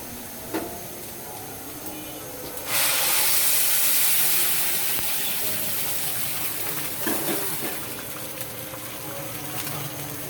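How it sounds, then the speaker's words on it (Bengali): Hot boiled water is poured onto fried rice in a pot while making pulao, a sudden loud hiss and gush lasting a few seconds, then settling into a quieter simmering bubble. "এবার আমি গরম পানি ফুটিয়ে নিয়েছি, গরম পানিটা ঢেলে দেবো।"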